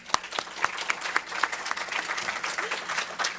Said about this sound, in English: Let's hear a round of applause for all of our speakers today.